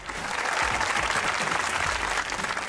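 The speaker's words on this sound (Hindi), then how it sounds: "तालियां।" A studio audience at a Pakistani comedy talk show applauds in a dense, continuous roar of clapping that holds at an even level for the whole short stretch, with no individual claps standing out.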